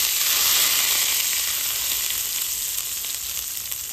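A tadka with asafoetida crackles in hot oil as tempering for a chutney served with jowar idli. The sizzle is a loud, steady, close hiss with no talk, easing slightly toward the end.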